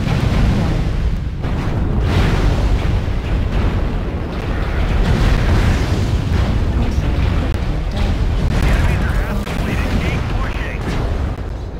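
Airstrike explosions pound continuously in MechWarrior Online during a match with a Crusader 7L mech, a loud, dense rumble of booms and blasts with no pause.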